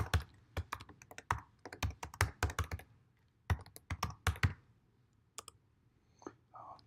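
Someone types a password on a computer keyboard: irregular bursts of crisp, close key clicks separated by short pauses.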